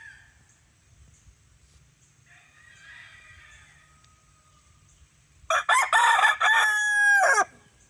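Chickens in a backyard coop give a loud rooster crow near the end, preceded by faint clucking and soft background bird sounds.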